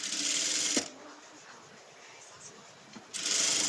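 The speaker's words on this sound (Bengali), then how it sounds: "সেলাই করে ফেলবো" A sewing machine stitching around a maxi dress neckline, a brisk whirring run at the start, a quieter pause, then the motor whirring again.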